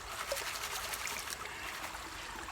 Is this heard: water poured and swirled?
yes